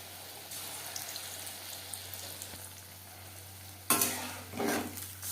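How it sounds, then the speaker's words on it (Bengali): Paneer pakoras fry in hot oil over medium flame with a soft, steady sizzle, then two louder bursts of spattering bubbling close by; no one speaks. "পকোড়া ভাজবো মিডিয়াম ফ্লেমে"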